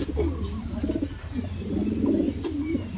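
Racing pigeons cooing at their loft as they come back from a training flight in Sison, Pangasinan, with soft repeated coos close by over quiet outdoor background.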